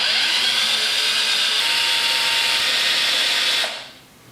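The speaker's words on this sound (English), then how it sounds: "I'm going to re-drill these holes a little bit so that there's some bare wood" A loud, continuous high-pitched whine of a power drill boring into wood, holding steady for a few seconds before winding down and stopping.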